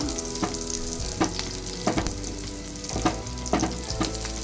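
Green chillies and garlic sauté in butter in a pan, a loud continuous sizzle broken by repeated spoon scrapes and knocks about every half second to second, close up with no talking.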